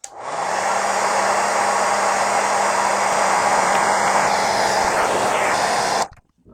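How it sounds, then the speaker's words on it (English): A Conair hair dryer blows continuously at close range with a loud, even whooshing hiss, then switches off abruptly near the end. "trusty Nicolas Cage Conair hair dryer. We're going to get her warmed up"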